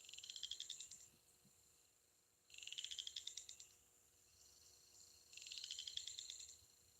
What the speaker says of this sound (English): There's no telling how many frogs back there.